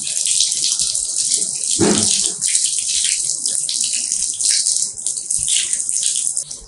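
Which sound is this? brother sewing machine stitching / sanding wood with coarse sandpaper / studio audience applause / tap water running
tap water running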